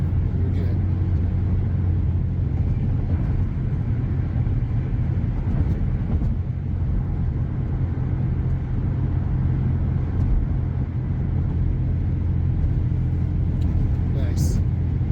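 A car driving on a road during a road-test practice drive, with a steady engine and road hum heard from inside. People talk over it the whole time.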